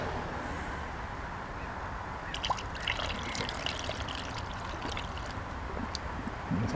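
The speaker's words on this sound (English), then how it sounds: "I'm going to sacrifice a little bit of my cleaner that I'm going to stick into the radiator" Radiator cleaner trickling through a funnel into the radiator of a 1989 Ford Ranger 2.9L V6, a steady liquid pour with small splashes and gurgles, close by.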